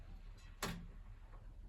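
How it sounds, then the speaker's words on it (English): A single sharp mechanical click from a washing machine stands out briefly against a low, steady background hum. "Oh, it's clicking again."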